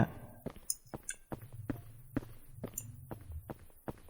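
Footsteps walking alone at night through empty streets in a horror video game: a steady run of soft, evenly spaced treads, fairly close, over a low background hum with no talking.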